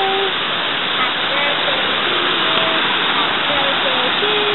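A giant waterfall in Palenque roars as a loud, steady wash of rushing water that fills the whole stretch, with people singing faintly over it.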